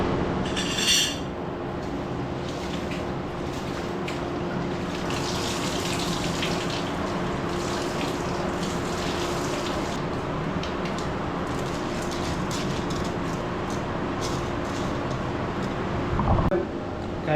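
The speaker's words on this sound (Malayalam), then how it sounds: "കഴുകി അരി സെറ്റാക്കിയിട്ടുണ്ട്" Two and a half cups of rice being washed in water for a bachelor-style weekend biryani: a steady wash of running, sloshing water with faint clinks of a pot, continuous and close throughout.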